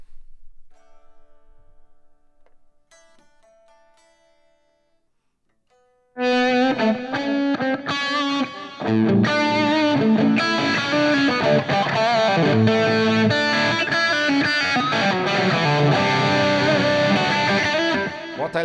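After a few soft, quiet notes, a loud distorted electric guitar played through a Fractal FM3 or Axe-FX III kicks in, playing thick, driven chords and riffs that continue steadily to the end.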